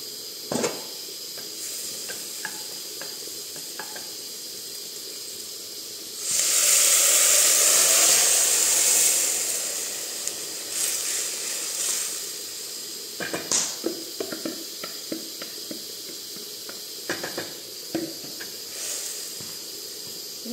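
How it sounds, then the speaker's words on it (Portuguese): Hot water poured into a very hot pan of crushed garlic, onion and leek hisses in a loud, steamy burst of sizzling that rises sharply, holds for a few seconds, then fades into softer crackling and scattered kitchen knocks. "E hoje eu vou colocar um pouquinho de água quente."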